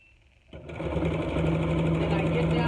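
A sewing machine starts up after a brief quiet moment and runs in a steady, continuous whir while stitching a fabric mask, close and fairly loud.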